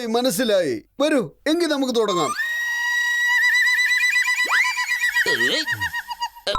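In a Motu Patlu cartoon, a character's voice imitates a donkey bray during a singing contest, a long wavering, whistly tone following brief speech, loud and near.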